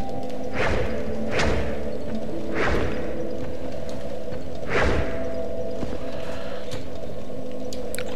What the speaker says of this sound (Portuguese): Deixa eu até testar uns golpes aqui com essa lança.